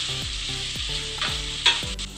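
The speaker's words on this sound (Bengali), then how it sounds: "পেঁয়াজটা মোটামুটি আমাদের অল্প অল্প ভাজা হয়ে গেছে" Chopped onion and garlic fry steadily in a pan for a prawn and taro-stolon dish, the constant close sizzle broken by several rhythmic scraping stirs, with no talking.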